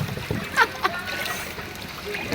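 Someone jumps into water to swim, making a couple of short splashes amid choppy water noise, with voices chatting nearby.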